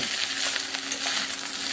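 Vegetable fried rice being stirred in a hot pan, mixed with sugar, salt, green chillies and fried vegetables, giving a steady, close sizzle with soft scraping throughout and no talking.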